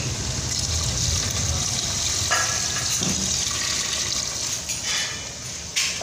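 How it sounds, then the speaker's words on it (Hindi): Water pours steadily into a cooking pot of mutton curry with peas. The splashing fill sounds close and continuous, with no talking. "पानी शामिल कर दिया है"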